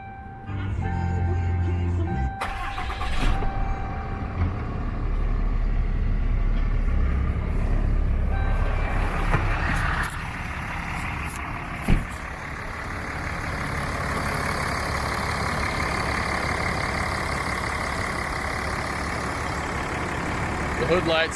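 A 2012 Ram 2500 Mega Cab diesel with 74,000 miles cranks over and settles into a steady, loud idle that drones close by for the whole stretch, with a sharp transient midway.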